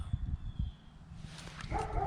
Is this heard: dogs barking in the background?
yes